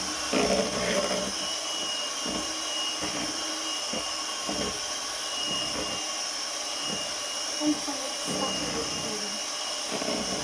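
Electric hand mixer whisking caramel cream into a homemade ice cream base, a steady close whirring drone that holds level throughout with faint rattles of the beaters against the bowl.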